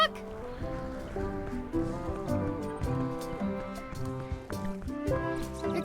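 A cartoon duck in the Return to Monkey Island game honks and quacks repeatedly in a busy, bouncy run of calls over background music, close and clear.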